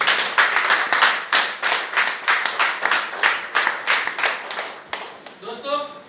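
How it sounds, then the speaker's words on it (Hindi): Enthusiastic clapping from a gathered audience giving a loud welcome at a meeting, a dense run of hand claps lasting several seconds before tapering off, with a voice starting to speak near the end. "हम चाहेंगे कि आप अपने लिए जोरदार ताली से अपना स्वागत करें।"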